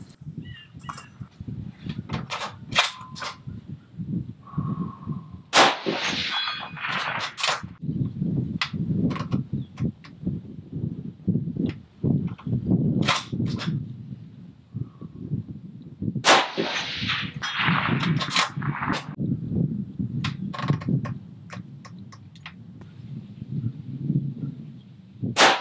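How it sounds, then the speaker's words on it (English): Rifle shots from a .223 firing 69 grain Federal Gold Medal Match rounds downrange at 200 to 400 yards, a dozen or more sharp loud cracks spaced irregularly over steady outdoor wind noise. "I'm gonna go ahead and send some rounds down range here, just 200 and 300 yards, maybe 400"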